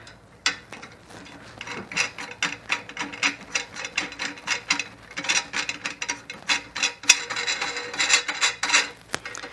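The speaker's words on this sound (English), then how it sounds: "Take that handle, screw it down in here." Handle being screwed into a Vevor four-color screen printing press during assembly, giving a run of rapid ratcheting, grinding clicks in uneven bursts, close and fairly loud, with no talking.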